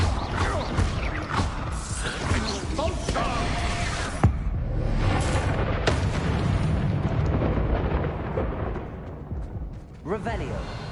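Bombarda explosion spell during Hogwarts Legacy combat, dense booming blasts and crashing impacts layered over game effects and music, with a voice speaking amid the chaos.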